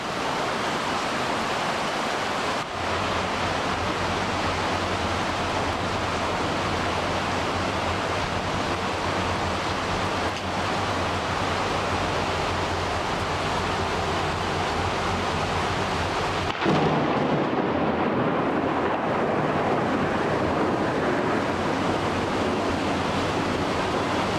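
Heavy tropical rain pours down in a steady loud roar, with low rumbling thunder underneath that builds and shifts partway through, heard close by and continuous with no talking.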